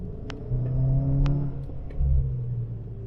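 A 2022 Subaru WRX with a CVT climbs a mountain hill under acceleration, its low, steady engine drone swelling near the start and again later, heard from inside the car with no talking.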